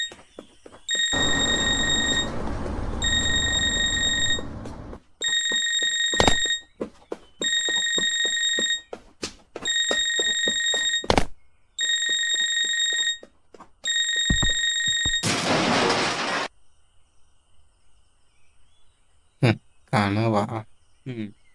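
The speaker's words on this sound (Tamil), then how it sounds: "இப்போ இந்த அலாரம் அடிக்க ஆரம்பிச்சு நிற்கிறதுக்குள்ளே நான் போய் ஆஃப் பண்ணிட்டேனா" An alarm clock rings in loud, shrill bursts, about seven evenly spaced rings with short gaps between them, then it is cut off and a few brief rustling clatters follow in a quiet room.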